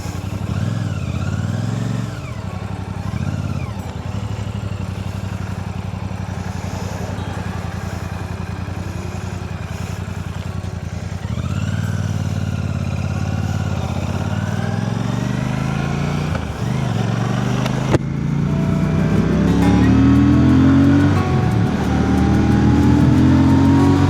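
A motorcycle loaded with low-cost panniers runs steadily nearby, its engine droning and shifting pitch as it pulls away and picks up speed, loud and unbroken with no voices.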